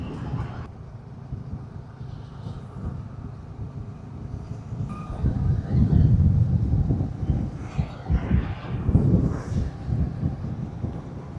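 Wind blowing outdoors along a road near a former airstrip in Kilinochchi, a steady low rumble that swells into louder gusts in the second half, with no talking.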